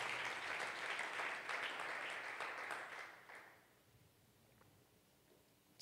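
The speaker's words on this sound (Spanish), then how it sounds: "Dele ese aplauso fuerte al Señor en esta hora" Congregation at a Spanish-language church service clapping loudly together, a bright sustained burst that fades out after about three and a half seconds into near silence.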